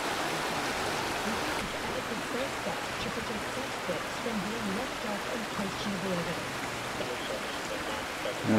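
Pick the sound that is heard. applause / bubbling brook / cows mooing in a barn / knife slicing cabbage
bubbling brook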